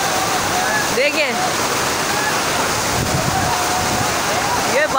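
Fast floodwater surges along Shahrah-e-Faisal, a major road in Karachi, as a loud, continuous broadband roar with wind buffeting the microphone throughout.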